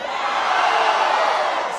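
Huge crowd at a Barack Obama get-out-the-vote rally in Denver, a steady, dense roar of many voices filling the space, loud and sustained throughout.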